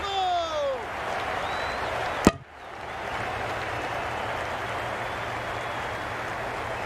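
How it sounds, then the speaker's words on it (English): Stadium crowd noise from a Cricket 22 video game match, India versus Australia, a broad steady roar with a brief sharp spike, with a commentator talking over the start. "The crowd are really getting quite raucous. It's going to be difficult to focus down in the middle with this amount of noise."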